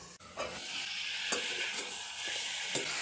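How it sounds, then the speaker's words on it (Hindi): Chicken frying in a covered pan over a low flame for a restaurant-style chicken masala, with a soft, steady sizzle close by and a few faint clinks and stirring scrapes. "चिकन को कवर करके हमने 5 मिनट फ्राई कर लिया है।"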